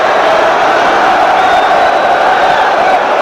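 A large crowd of Corinthians fans celebrates at Morumbi stadium in the 1999 Paulista final against Palmeiras, an unbroken wall of cheering and chanting, loud and even throughout with no pauses.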